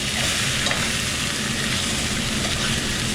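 Chicken thighs sear in a hot pan with a dense, steady sizzle and crackle, loud and close, with no voices over it.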